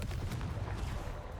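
A Confringo blast spell cast in Hogwarts Legacy, a dense, booming burst of fiery impact noise lasting about a second and a half.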